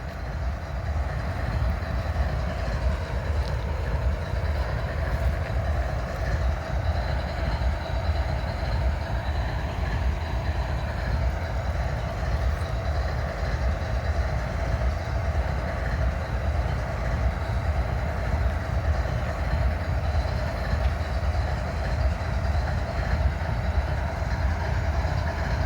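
Locomotives idling during a train meet in Abbeville give off a constant low rumble and drone that hold steady throughout, with no voices.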